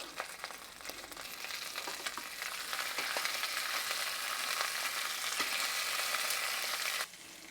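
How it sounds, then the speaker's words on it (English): Sausages frying in a pan, a steady crackling sizzle with scattered pops and spits for several seconds that drops off abruptly near the end. "When you're cooking sausages like this, you want to let them cook, flip."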